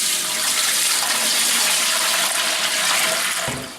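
Water gushes loudly and steadily into a brewing kettle for a brew-in-a-bag stout, a close, continuous rushing fill that tapers off just before the end.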